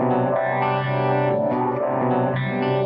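A distorted electric guitar phrase with chorus and echo plays back steadily and loud in GarageBand, the same short section repeating as a loop, cutting off abruptly at the end.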